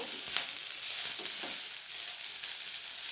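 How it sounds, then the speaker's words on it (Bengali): Onions sizzle in a pan while cooking for a banana flower chop, a faint, even hiss with a few light stirring touches, close by and free of speech. "পেঁয়াজটা আমার বেশ ভাজা হয়ে গেছে"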